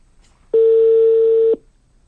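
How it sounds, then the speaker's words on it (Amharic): A single long telephone ringback tone sounds while a call goes through, one steady loud beep lasting about a second, clear and alone. "እየጠራ ነው።"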